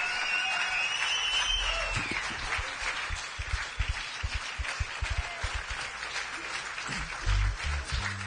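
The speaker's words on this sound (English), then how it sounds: "you folks can stand up and give him a round of applause" A large crowd at the Lele Aloha Lahaina Unity Gathering applauds for Archie Kalepa, with sustained dense clapping and scattered louder claps and thumps near the end.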